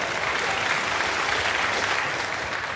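A television studio audience on a comedy panel show claps in a dense, steady burst of applause that stays loud and even, then eases slightly toward the end.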